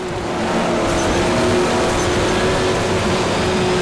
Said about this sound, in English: Vehicles sound angry, intense, almost like machines made of pure rage.